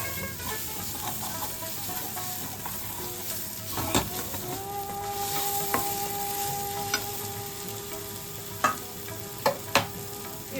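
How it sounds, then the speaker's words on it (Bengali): Masala and tomato sautéed in a pan for a maan kochu dalna, a soft, quiet sizzle with occasional sharp clicks of a spoon against the pan. Close but low in level, with no talking. "এদিকে মশলাটা কিন্তু আমাদের খুব ভালোভাবে কষানো হয়ে গেছে"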